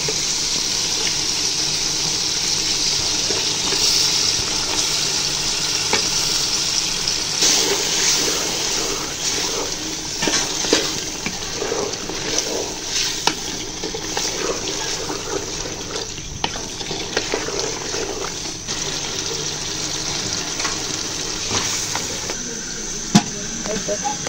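Water gushes steadily into a cooking pot holding a whole small chicken for bhuna khichuri, a close, continuous pour with splashing that runs unbroken for the full stretch.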